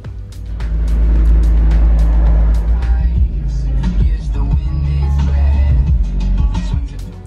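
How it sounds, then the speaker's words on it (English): A 2019 Fiat 124 Spider convertible's engine turns over and settles into a steady, loud idle with a deep rumble throughout, close by. "grabbed my fob so I can start the engine."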